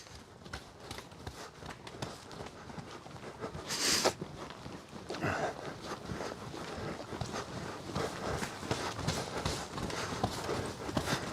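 A mare being ridden clip-clops along at a steady walk, her hoofbeats close and fairly faint, with a few louder knocks and rustles along the way.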